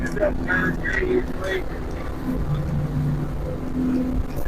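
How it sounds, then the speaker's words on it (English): Speedboat on open water with a Sharrow propeller, running at about 45 knots and 5,100 RPM, gives a steady loud engine drone with wind rush throughout, with people talking over it. "we're driving the Sharrow prop for the first time"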